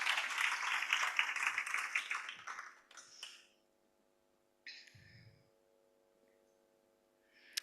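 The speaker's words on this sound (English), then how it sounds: "Let's give her a warm round of applause as she comes on stage" Audience applause greets a woman walking on stage at a women-in-leadership celebration, a dense wash of clapping that swells for about three seconds, then fades out to near silence with a few faint, scattered claps afterward.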